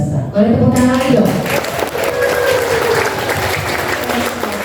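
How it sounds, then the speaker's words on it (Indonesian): Audience applause at an elementary school storytelling competition in Samarinda, a loud, sustained clapping crowd with a voice speaking over it at the start. "Boleh tepuk tangan lagi dong."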